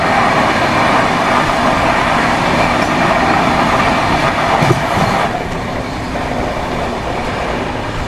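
The eight-coach Mysore–Chennai Vande Bharat Express rushes past at close range, a loud, steady rumble of wheels and rails with a rhythmic clatter that eases slightly toward the end.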